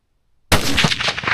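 A single loud rifle shot from a Ruger American Gen II Scout rings out sharply after a moment of silence, then trails off in a short reverberant decay.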